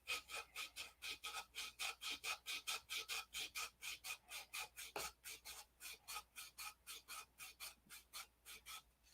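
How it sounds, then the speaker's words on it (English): Steady back-and-forth scraping of hand sanding inside a P-47 airplane, a fast regular rhythm of rasping strokes, close and distinct, continuing for several seconds without talk. "So here I am again, sanding the inside of my airplane."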